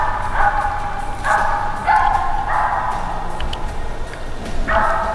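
A feist squirrel dog at a squirrel hunting competition barks at a tree in the woods, giving repeated loud barks at an uneven pace over steady outdoor background noise.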